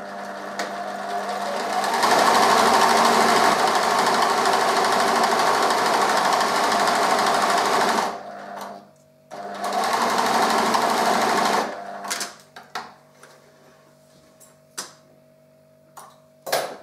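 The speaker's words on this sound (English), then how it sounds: "So we sew the lining together." A sewing machine stitches tea cosy lining fabric in two steady runs of fast, even whirring, with a short pause between them, then gives way to scattered clicks and handling sounds.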